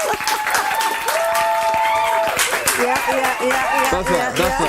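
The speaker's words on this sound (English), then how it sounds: "Can I have a round of applause?" A talk show studio audience applauds to welcome a guest, a member of parliament. The clapping is steady and full throughout, with a voice speaking over it.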